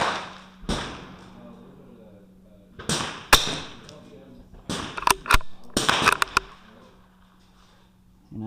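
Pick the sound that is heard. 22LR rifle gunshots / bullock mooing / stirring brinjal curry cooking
22LR rifle gunshots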